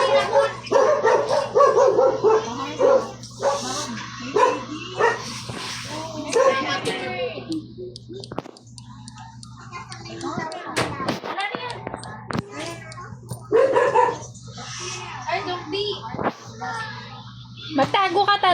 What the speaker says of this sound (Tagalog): Nakawala niya yung aso.